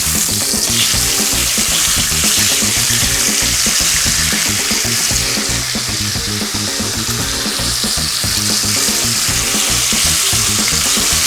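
Four rashers of streaky bacon sizzle loudly in a hot pan, a dense, steady crackling hiss with popping spatter, close and continuous throughout.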